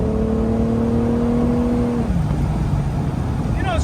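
A 1999 Plymouth Prowler with a 250-horsepower engine drives with a loud, steady engine drone from inside the car, the pitch falling as it shifts or eases off, and a voice talks over it.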